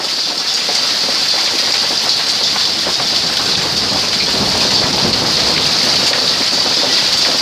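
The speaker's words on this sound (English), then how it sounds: "it is just absolutely hailing" Loud, dense hail hammers down steadily, a continuous hissing clatter of countless impacts close by with no pauses and no voices.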